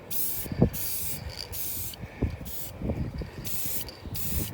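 Several short hissing bursts from a spray paint can outdoors, separated by brief pauses, close and fairly loud, with light wind noise in between.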